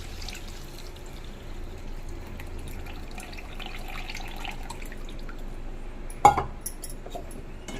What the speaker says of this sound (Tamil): புளி தண்ணி சேர்த்துக்கலாம்